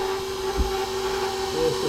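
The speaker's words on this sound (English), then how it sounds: "There's the second one through the spaghetti cutter." An electric pasta machine's spaghetti cutter runs with a steady mechanical whir as homemade spaghetti dough passes through, with a few soft low thumps near the middle and end.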